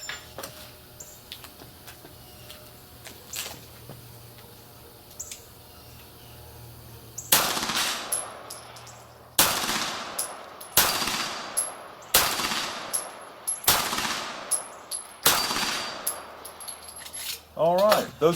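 A Beretta 92G Elite Compact handgun fires at a shooting range: after several seconds of quiet ambience, a series of loud, sharp shots rings out close by at a fairly steady pace.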